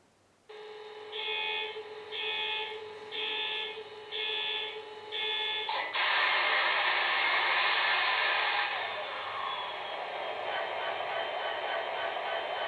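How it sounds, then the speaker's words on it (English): An MTH HO scale Norfolk Southern SD70ACe model locomotive runs its sound startup: about five evenly spaced electronic warning tones, then a loud, steady diesel roar that settles into a sustained idle, with no talking. "Let's go ahead and power this locomotive on real quick so you can hear the startup sequence."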